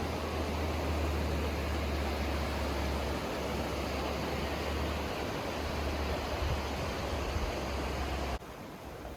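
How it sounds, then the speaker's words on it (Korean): The Tama River rushes through Mitake valley in a steady, dense roar of flowing water that stays constant before dropping abruptly near the end. "주변의 소리를 귀 기울여 보니 시원한 물소리가 들렸습니다."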